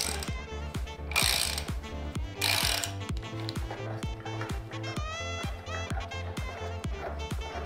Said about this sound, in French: et bien sûr un cliquet